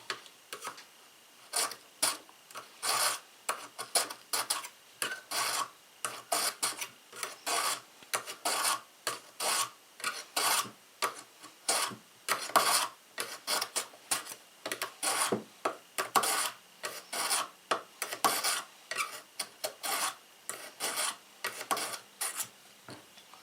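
Repeated rasping strokes of a nicked Homestead kitchen knife blade drawn through a Smith's sharpener, steady and rhythmic, close up, with no talking.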